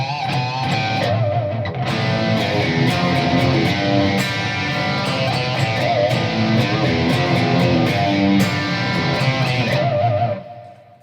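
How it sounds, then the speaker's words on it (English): Heavily distorted electric guitar played with pinch harmonics through an effects unit, a steady dense riff with sharp squealing overtones ringing out for about ten seconds before cutting off. "I think it's called pinch harmonics. Just love the sound."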